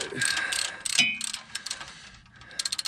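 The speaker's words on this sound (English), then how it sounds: "torque this from here down to whatever I feel like it needs to be torqued down to" A hand ratchet clicks in quick bursts while tightening a brake line bracket bolt on a Dodge Ram 2500/3500 during a suspension lift, close and crisp with brief metallic clunks between strokes.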